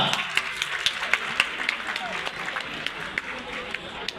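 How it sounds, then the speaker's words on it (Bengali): A college festival audience claps for a madam, with scattered, uneven claps under ongoing talk and crowd murmur. "জোরে হাততালি হয়ে যাবে একটা,"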